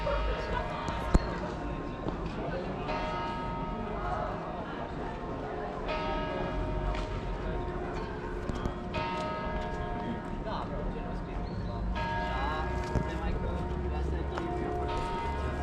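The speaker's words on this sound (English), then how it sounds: "as it is now noontime, a lot of the bells in the city are going off" Many church bells ringing at noon across the city of Sibiu, Romania, near the Lutheran Church: repeated metallic tolls layered over a busy outdoor crowd murmur, steady and moderately loud for the whole stretch.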